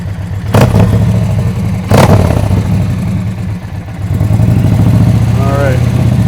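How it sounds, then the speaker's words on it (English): Close motorcycle engine idling loudly, with two sharp revs early on and a rising rev near the end. "We'll give it a few revs"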